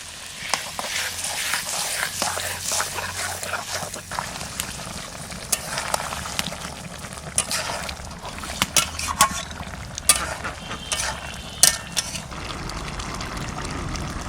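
Cumin and ground spice paste fry in a pan over a steady broadband sizzle, with scattered spatters and stirring scrapes and a low rumble early on, no talking.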